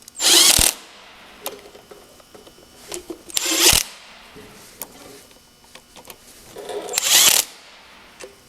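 Ratchet driving gasket bolts on a Cub tractor, three loud bursts of rapid clicking separated by quieter taps and handling noises, close by.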